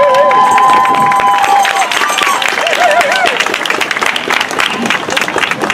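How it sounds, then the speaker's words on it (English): A crowd at an outdoor justice rally in Seaside, California applauds, with loud, close clapping and cheering while voices call out and chatter over the noise. "Give him a round of applause, please."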